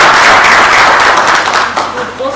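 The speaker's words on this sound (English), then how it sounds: "May we please give them a round of applause." A town hall audience applauds the sponsors with sustained, dense clapping that fills the room at close range, tapering slightly toward the end.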